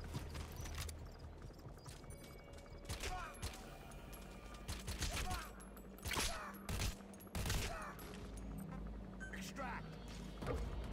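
Bursts of gunfire and sharp impacts crackle through a busy Metal Gear Solid V game soundscape, with scattered voices talking underneath.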